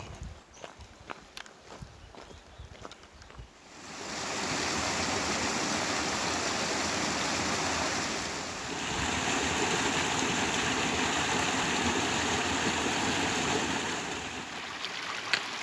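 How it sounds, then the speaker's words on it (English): Flowing stream at a trail crossing on Squirrel Creek Trail heading down to Beulah Valley, Colorado: a few footsteps first, then a steady broadband rush of water swells in and holds loud and close to the end. "Time for another stream crossing."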